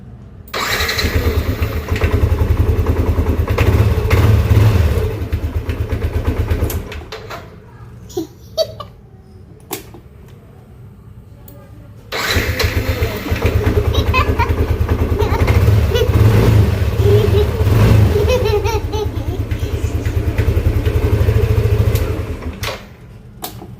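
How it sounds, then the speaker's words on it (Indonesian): A Yamaha NMAX scooter engine cranked and started several times on a repaired battery, loud bursts of engine running broken by a quieter gap with clicks and short noises, then restarting and running steadily, a voice faintly present. "kita tes di motor NMAX sampai beberapa kali starter ya teman"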